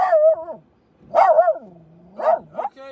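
A pet dog barks loudly and close by in three separate bursts, each a cluster of sharp yelps and drawn-out barks with short quiet gaps between them.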